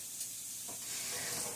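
Sausage sizzling and frying in a pan while Southern breakfast cooks, a steady close hiss with a brief soft clatter partway through.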